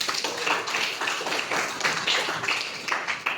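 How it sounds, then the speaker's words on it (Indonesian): Pupils in a classroom give steady applause for the last few project groups, many hands clapping in an even, moderately loud patter with some voices beneath. "Tepuk tangan untuk kelompok 4,"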